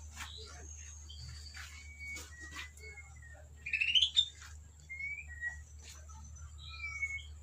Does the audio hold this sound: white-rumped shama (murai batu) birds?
yes